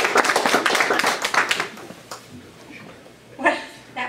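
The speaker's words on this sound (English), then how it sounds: "Please give her a round of applause as she comes." An audience applauds as Erin's first female mayor comes up to speak, a burst of scattered, individually audible claps that thins out and fades by about two seconds, followed by a few isolated taps and a brief noise near the end.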